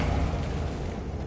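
A Bombarda blasting spell going off in the Hogwarts Legacy video game, a brief loud booming roar that fills the short moment with no voices.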